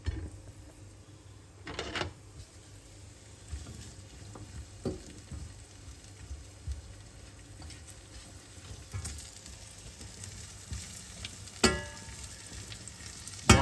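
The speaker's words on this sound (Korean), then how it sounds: "버섯을 볶아줍니다." Mushrooms stir-fry in a pan with a steady, fairly quiet sizzle, broken by occasional scraping knocks of a spatula as they are tossed.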